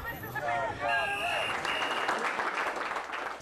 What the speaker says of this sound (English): Staff at this factory in Bath did try to put her on the spot, but applauded when she was asked about not showing tonight